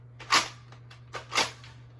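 Three quick shots from an Apollo toy blaster, sharp snapping pops in a close burst with a low steady hum underneath and no talking.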